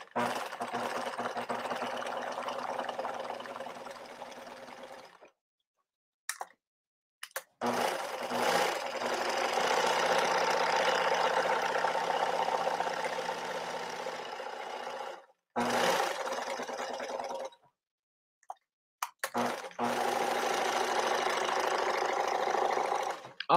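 A sewing machine stitching a lace scallop onto clothing runs in long steady whirring stretches, close and fairly loud, stopping briefly a few times before starting again.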